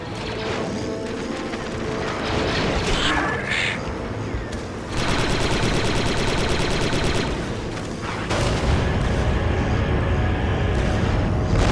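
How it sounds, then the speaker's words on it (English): Explosions and heavy gunfire erupt in the Star Wars Republic Commando video game, with loud crashes and rapid bursts of weapon fire blending into a dense, continuous battle din throughout. "3-8, my scanners show an explosion."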